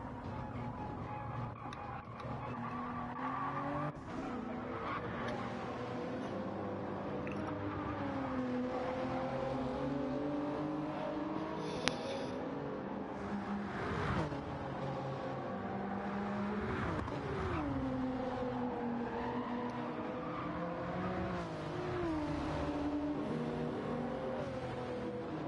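Group 3 race cars in Gran Turismo 7 roar around Spa, engines droning steadily and rising and falling in pitch through gear changes and braking, a continuous layered whine of closely racing cars.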